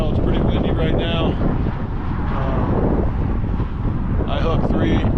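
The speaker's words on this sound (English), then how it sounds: "As you can tell, it's pretty windy right now." Strong wind buffets the microphone in a loud, continuous low rumble while trout fishing in Montana, with brief higher whooshes near the start and end.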